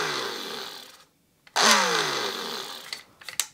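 A grinder whirs as it blends fly-tying dubbing fibres, running loud and steady, stopping briefly, then spinning up again with a rising whine before winding down into a few short clicks.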